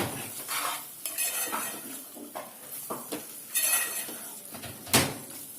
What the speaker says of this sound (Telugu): ఇప్పుడు మనం ఫ్రై చేసుకున్న చికెన్ పీసెస్ ఉన్నాయి కదా అవి వేసేసుకోండి ఒక్కసారి కలుపుకోండి